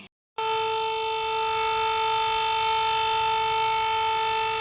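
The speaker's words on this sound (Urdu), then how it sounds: "8:52 پر سائرن بجا کر 1 منٹ کی خاموشی اختیار کی گئی۔" A steady civil defense siren sounds for a minute of silence at an October earthquake memorial ceremony in Azad Kashmir, one continuous loud unwavering tone held throughout after a brief gap at the start.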